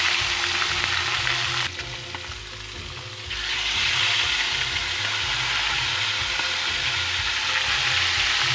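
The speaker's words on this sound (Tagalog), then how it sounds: "Ayan, prito." Steady, loud sizzling of fish frying in hot oil, crackling continuously with a brief quieter dip before swelling again.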